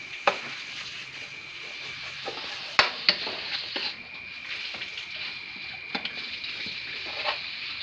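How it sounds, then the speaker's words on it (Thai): Beef and chili stir-fried in a hot pan for kra pao make a steady bright sizzle, with occasional sharp clinks and scrapes of a spatula against the pan, close and continuous. "ใส่เนื้อลงไปครับอุ้ยเร่งไฟนิดนึงครับเร่งไฟแล้วก็ผัดให้เข้ากันครับ"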